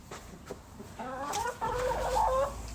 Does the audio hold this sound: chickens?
yes